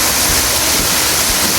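Lanka Ella waterfall in Sri Lanka pouring down in a loud, steady rushing roar of water, close and continuous, with no voices.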